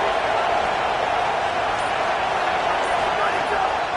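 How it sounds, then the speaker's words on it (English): A steady, dense roar from a packed stadium crowd in a college football video game, continuous and loud throughout with no breaks. "Listen to this crowd just shaking the girders of this place"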